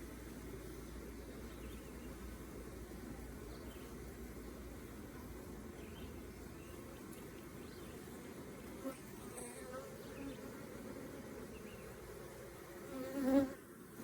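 Honey bees buzzing around an opened hive during queen catching, a continuous soft droning hum from many insects close by, with a brief louder buzz near the end.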